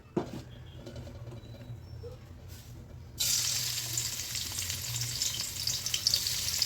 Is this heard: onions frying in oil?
yes